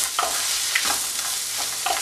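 Tomato and masala being sautéed and stirred in a pan for Kerala-style kadala roast, a steady close sizzle with scraping stirs recurring every half second or so, no talk.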